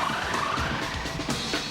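A car wrapped in aluminum foil drives toward a police radar gun, giving a continuous, fairly loud roar of engine and tire noise with a faint rising whine and no pauses.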